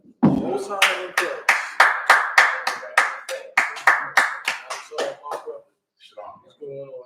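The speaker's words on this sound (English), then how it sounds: "Clap it up again if I may" A crowd claps in a series of about fifteen sharp, evenly spaced bursts at a night history class in Durham, North Carolina. The applause is loud and close, then stops, and a few faint voices follow.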